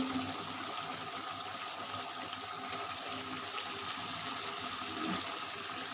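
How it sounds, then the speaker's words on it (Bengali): Liquid poured into a pan of spicy fish curry with vegetables, a steady watery rush and hiss that runs evenly throughout, close and moderately loud. "পরিমাণ মতো ঝুল দিয়ে দিচ্ছি"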